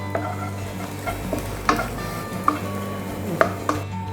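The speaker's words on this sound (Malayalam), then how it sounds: "1/2 ടീസ്പൂൺ ഗരം മസാല. നന്നായിട്ടൊന്ന് സോട്ട് ചെയ്യാം." Turmeric, fennel powder, Kashmiri chilli powder and garam masala sauté in a pan for a crushed dried beef dish, with a soft sizzle, close spatula scrapes and several metallic taps against the pan.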